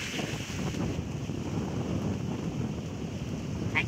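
Strong wind buffets the microphone during an outdoor jog in the Philippines, a steady, loud low roar continuous throughout with no voices.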